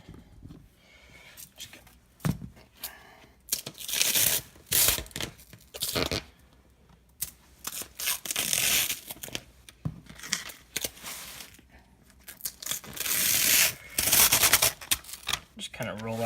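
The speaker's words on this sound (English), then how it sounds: "just kind of roll out some of this film, enough to kind of cover our vinyl" Clear plastic transfer film crinkles and rustles as it is unrolled and laid over cut vinyl, in irregular crackling bursts with some tearing and brushing sounds, close but fairly soft, with a voice talking at times.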